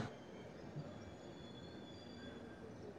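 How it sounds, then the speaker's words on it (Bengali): The Kanniyakumari SF Express pulls into Kanyakumari, the end-of-line station, with a faint, steady rumble of rolling coaches and thin wheel squeals drawn out in the background. "ট্রেন ঢুকছে স্টেশনে।"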